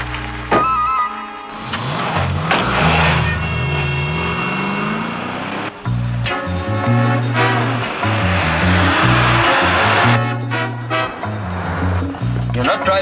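A car driven fast on a road, its engine revving and surging loudly while a musical score plays over it and voices speak.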